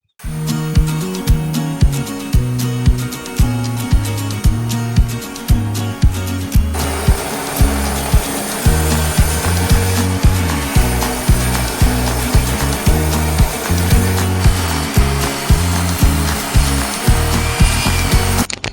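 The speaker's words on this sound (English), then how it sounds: "Just rip apart all the boards with the table saw" A table saw rips long wooden lumber boards, its loud motor whine rising into repeated rough cutting passes as each board feeds through the blade, close and with no talking.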